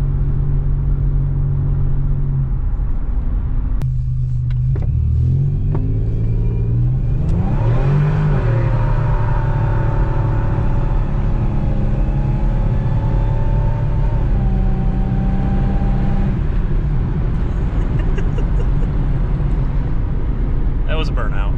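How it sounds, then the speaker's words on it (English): A 1985 Pontiac 6000 wagon with a supercharged 3800 engine does a burnout, its engine rising in a loud revving surge over a constant close interior rumble, with someone talking throughout. "That was a burnout."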